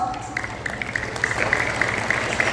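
Audience applause at an Independence Day school event, a steady wash of clapping from a crowd that holds evenly throughout without voices on top.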